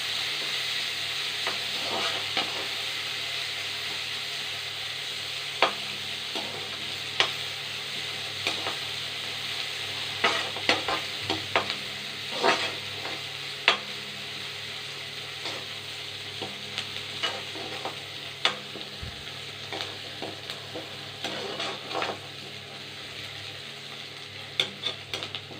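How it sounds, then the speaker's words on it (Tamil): Onions and tomatoes sautéing in a pan for South Indian sambar, a steady close sizzle of frying with repeated scrapes and stirs of a spoon against the pan throughout, no voices. "வெங்காயம், வெங்காயம் நல்லா வதங்கினதுக்கப்புறம் தக்காளி,"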